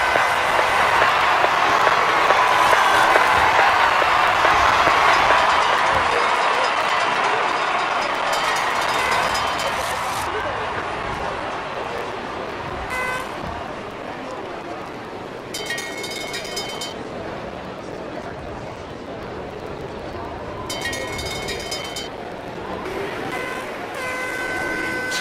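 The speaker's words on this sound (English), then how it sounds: "The winners' fans are cheering" Fans of the winning ski jumper cheer at a ski jumping competition, a broad, steady roar of crowd noise with horns and bursts of noisemakers sounding on and off, loudest at the start and easing slightly over time.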